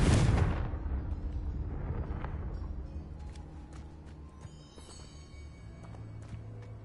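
A blasting-curse explosion from a Harry Potter scene erupts loudly at the start, a heavy boom whose rumble and debris-like crackle decay over several seconds, with no talk over it.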